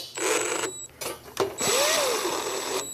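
A cordless power drill drives screws into a Bad Boy Outlaw mower panel, short close bursts of whirring motor that change in pitch and stop between screws.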